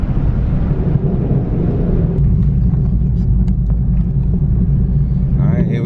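A naturally aspirated Ford Mustang Boss 302 running E85 with bolt-on parts, accelerating hard. It gives a loud, continuous deep engine roar heard from inside the car, steady throughout, with a person talking over it.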